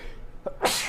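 A single sharp human sneeze, close and fairly loud, bursting out after a brief quiet breath during a casual sports talk show.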